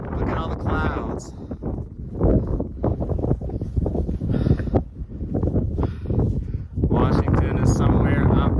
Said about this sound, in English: It's crazy windy up here.